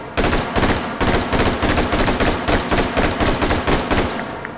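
A rifle fires in rapid three-round bursts in Hot Dogs, Horseshoes and Hand Grenades, loud and close, the grouped shots repeating steadily in a continuous rhythmic string.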